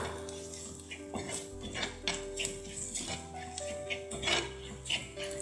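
Chili, coriander and turmeric powders are sautéed over high flame in a pan for a Kerala-style prawn curry. A utensil scrapes and clinks softly against the pan in an irregular rhythm, quiet and close.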